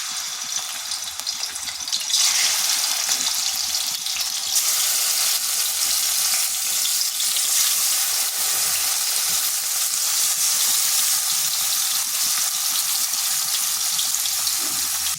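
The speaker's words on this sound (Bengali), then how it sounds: "কড়াইতে তেল দিয়েছি, এরপর মাছগুলো ভেজে নিচ্ছি।" Katla fish pieces rubbed with turmeric and salt frying in oil in a wok, a loud, close, continuous sizzle that swells a little after a couple of seconds and then holds steady without talk.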